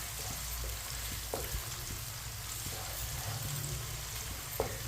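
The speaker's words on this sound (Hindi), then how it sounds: "प्याज को हम ब्राउन कर लेंगे" Finely chopped onion fries quietly in a pan for aloo matar pulao, a faint, even sizzle with a few soft stirring scrapes.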